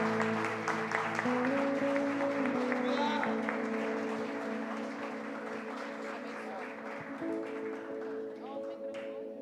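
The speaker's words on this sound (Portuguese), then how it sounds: "dar uma linda salva de palmas para Deus." A church congregation claps in sustained applause during a Sunday family service, a dense steady wash of hands that slowly fades. A voice speaks over it.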